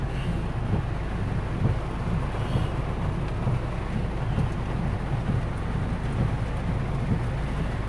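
Heavy rain pours down steadily during a flash flood in Ipswich, a loud, dense, continuous roar of water with low rumbling and no breaks.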